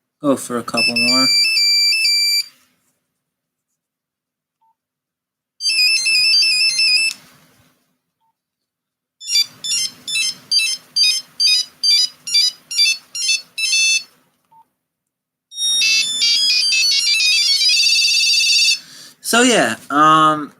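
A series of old mobile phone ringtones sounds in turn, loud and close: chiming electronic tunes, a run of rapid pulsing beeps, then a busier warbling melody, with silences between them.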